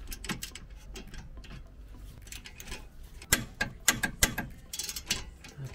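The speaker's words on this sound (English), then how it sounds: "next thing to do now is to torque it up again as per manufacturer spec." A torque wrench clicks and ratchets in uneven bursts while tightening wheel bolts on a 2018 Vauxhall Mokka, with sharp louder clicks toward the end over a quiet workshop background.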